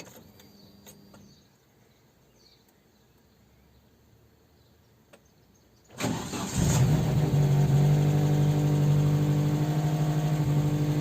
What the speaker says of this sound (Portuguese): Agora eu vou virar arranque e o motor vai ligar.